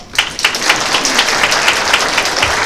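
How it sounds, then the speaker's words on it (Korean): Wedding guests at the Incheon Samsan Convention hall applaud warmly, a dense crowd of many hands clapping steadily and evenly throughout. "뜨거운 박수로 두사를 축복해 주시기 바랍니다"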